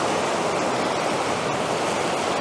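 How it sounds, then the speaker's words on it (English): Steady, full-band roar of a waterfall near Courtenay, British Columbia, pouring into rock potholes, continuous and loud with no voices. "So the waterfalls you see behind me"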